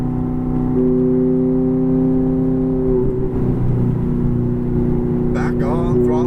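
Ferrari F430 engine revs steadily under acceleration, a strong droning tone that rises in pitch, then settles into a rougher, lower roar, with a voice briefly speaking near the end.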